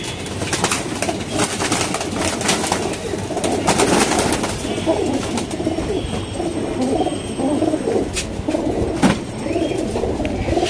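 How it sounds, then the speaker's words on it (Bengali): A khaki pigeon with red markings cooing among other pigeons, repeated low rolling coos over a busy background of flapping, shuffling and faint chirps, close and fairly loud. "লাল গিয়ারের খাকি একটা কবুতর মাশাআল্লাহ"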